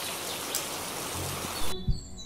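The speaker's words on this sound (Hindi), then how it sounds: "और तभी बारिश होने लगती है" Steady cartoon rain pours as a dense, hissing wash that cuts off abruptly near the end, followed by a couple of soft thumps.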